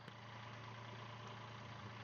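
A raw water-cooled narrowboat engine idles with a steady, low, continuous hum, holding at an even level the whole time with no talk.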